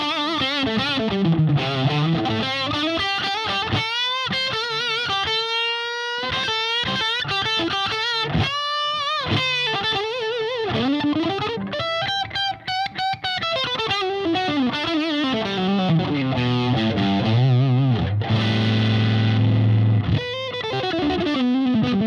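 Electric guitar run through an MXR Distortion Plus, the yellow pedal, played solo with fuzzy distorted single notes and bends, steady and fairly loud with no talking.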